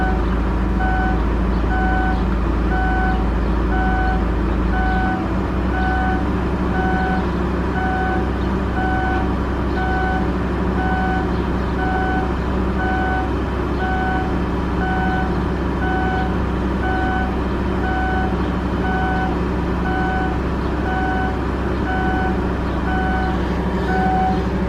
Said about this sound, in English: Still hear the fans going.